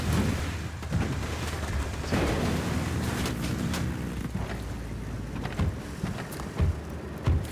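Rapid gunfire from a firefight ambush in the video game Ghost Recon Wildlands, a dense stream of cracks and bursts over a constant rumbling background, fairly loud throughout.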